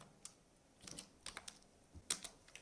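Quiet computer keyboard typing of JavaScript code for a React app, a few short bursts of close, crisp key taps with brief pauses between them, ending with a sharper louder clack.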